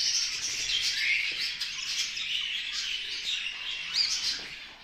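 Budgerigar chicks in a breeding box give a dense, continuous high-pitched chorus of chirps and squeaks, close and steady throughout with no talking.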